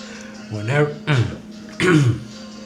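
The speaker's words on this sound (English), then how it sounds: "I had to clear my throat." A few rough, harsh throat-clearing bursts, close and fairly loud, separated by short pauses.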